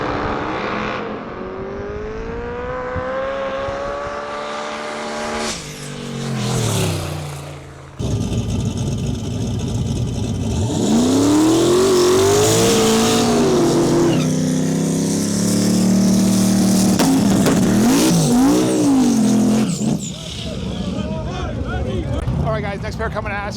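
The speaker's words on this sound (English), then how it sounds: "It looks like we got like a 69 Camaro in our lane and a big winged 4th gen Camaro far side of the track." Drag racing launch of a 1969 Camaro and a big winged fourth-generation Camaro on a sketchy track surface: loud, roaring engines rev and scream past in rising, sweeping pitches, with commentary talking over the noise throughout.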